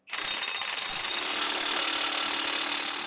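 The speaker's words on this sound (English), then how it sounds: "So I use my impact to get the nuts on a good majority of the way" An impact wrench drives nuts onto U-bolts while fitting a steering stabilizer on a 2019 Holiday Rambler motorhome; one continuous, loud, close rattling burst holds steady for about three seconds.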